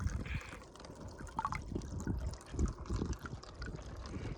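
Dirty, algae-filled water from a desert pool trickles and splashes out of a tube, an uneven nearby flow with soft drips and faint background noise.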